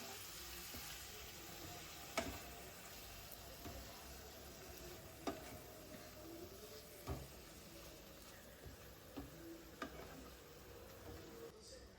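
Prawns get mixed with salt and masala in a pan for a semi-dry dish: a quiet, steady sizzle with a spoon clinking against the pan about every two seconds, no speech.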